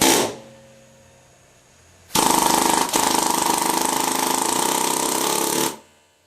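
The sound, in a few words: short stroke air hammer sizing a valve guide liner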